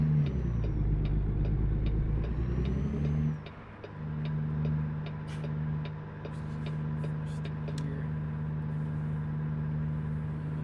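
A heavy truck's diesel engine in American Truck Simulator revs up and drops as gears shift down, then settles into a steady low drone with faint clicking, with no talking.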